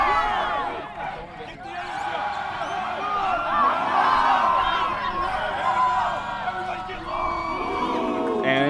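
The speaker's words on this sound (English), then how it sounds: "the teams all have a unique cheer that they do to hype their team up" The Minnesota quadball team performs its team cheer at the USQ Cup 2024 match against Cal: a group of voices shout and chant together over surrounding crowd noise, fairly loud and sustained.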